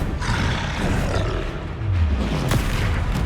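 Bombarda spell explosion in Hogwarts Legacy on PS5, a loud roaring boom with a low rumbling swell and a sharp crack partway through, close and alone.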